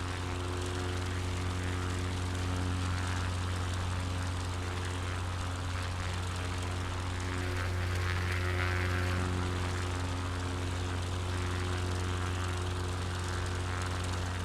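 A propeller plane's engine drones steadily in Microsoft Flight Simulator 2024 over Brunswick County and the Cape Fear River, a constant close hum that swells slightly as the RPM is turned up.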